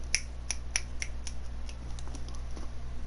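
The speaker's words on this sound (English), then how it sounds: "Snapping my fingers again." Repeated finger snaps, about a dozen crisp, sharp clicks spaced unevenly over a steady low background hum, close and clear with no talking.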